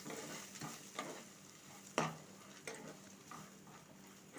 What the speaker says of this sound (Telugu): ఇందులోకి 1 కప్పు పచ్చి కొబ్బరి ముక్కలు, అలాగే 1 కప్పు పుట్నాల పప్పు వేసుకొని ఒకసారి బాగా కలిపేసుకోవాలండి